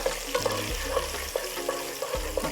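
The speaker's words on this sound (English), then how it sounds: "you stir that for maybe 1 minute until it turns brown" A spoon stirs hot ingredients frying in a pot for Nigerian jollof rice, a constant close sizzle broken by regular scraping knocks against the pot, with no talking.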